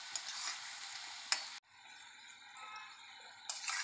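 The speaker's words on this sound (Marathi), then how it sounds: "सतत असं मिक्स करत त्यांना तळून घ्यायचं आहे" Onion and chili bhajis deep-frying in hot oil, giving a bright steady bubbling hiss that drops abruptly partway, then resumes with small crackles and a few light stirring taps.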